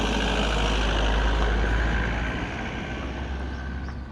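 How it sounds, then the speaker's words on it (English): A car drives past close by with a loud, steady broadband roar that eases slightly toward the end, with no voices. "there was a car going by"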